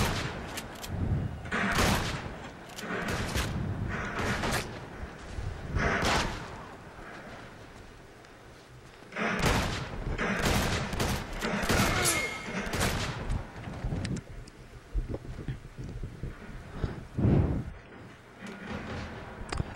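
Repeated shotgun blasts and gunfire in the video game Uncharted 2, during a shotgun-only deathmatch, loud bursts recurring irregularly over a continuous din of game action.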